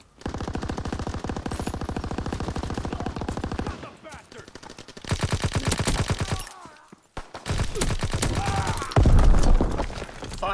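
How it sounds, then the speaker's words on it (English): A warship's primary battery guns firing in a WWII naval combat game, with long bursts of rapid, loud repeated shots, pauses between volleys and a heavy blast near the end, no talking. "Firing primary battery."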